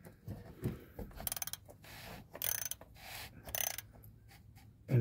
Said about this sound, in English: And then take your tool. 27 millimeter socket.